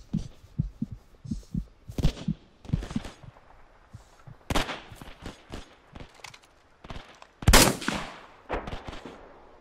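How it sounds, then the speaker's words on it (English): Gunfire from the video game Hell Let Loose sounds in scattered bursts of shots, some near and sharp, others muffled and distant, with a loud crack near the end. "I hear gunshots all around me."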